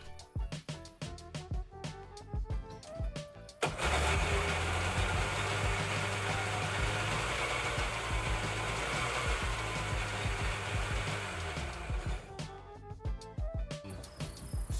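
The 1800 engine of a Ski-Doo Challenger, with rave valves just installed, idles stuck at high revs, holding a loud, steady, buzzing drone for about nine seconds between rougher, uneven running at the start and the end.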